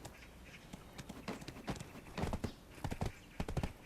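Horse hooves clip-clop in the Black Desert video game, an uneven trot of sharp knocks gathering into quicker clusters toward the end, close and fairly loud.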